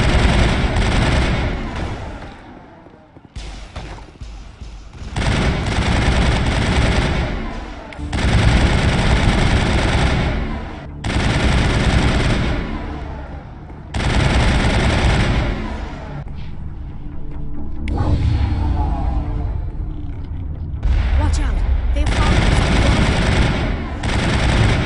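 Mass Effect turret gunfire roars in long, loud sustained bursts separated by short gaps, dense rapid fire dominating the scene with a mix of battle noise and occasional voices.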